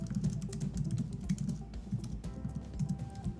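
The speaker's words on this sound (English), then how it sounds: "I'm going to go ahead and start typing" Someone types steadily on a computer keyboard close by, a rapid run of clicking keystrokes in uneven bursts with brief pauses, and no voices.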